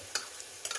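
Garlic sizzling in a pan of oil for a beef samosa filling, a steady faint hiss with two brief bursts of stirring or spattering, no voices.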